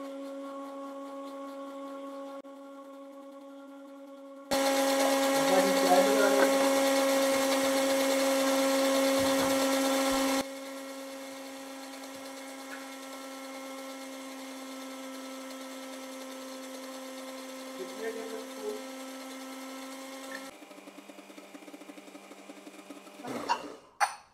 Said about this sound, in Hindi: अब मैं पहले ग्राइंडर को चलाने लगी हूँ